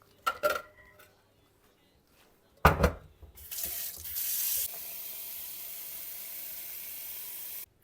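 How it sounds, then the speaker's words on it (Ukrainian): Cold water runs steadily from a tap into a pot of boiled potatoes after a couple of brief clatters, a continuous hissing pour lasting several seconds. "Зараз я буду її заливати холодною водою, щоб скоріше її остудити."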